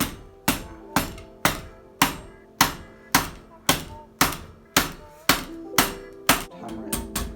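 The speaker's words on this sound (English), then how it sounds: "And then you just hammer that down, so that means it'll go straight" A part on a Nukeproof Mega 290 29er enduro bike is struck with a hammer about a dozen times in a steady, evenly spaced rhythm. The blows are sharp, close and loud, with no talking.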